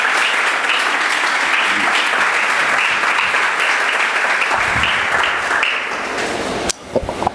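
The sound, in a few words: audience applause at church conference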